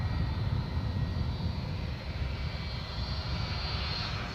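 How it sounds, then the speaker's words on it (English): A Ryanair passenger jet on final approach to Edinburgh Airport drones as a steady, fairly loud engine rumble that holds throughout with no talk over it. "Ryanair inbound on your screen now."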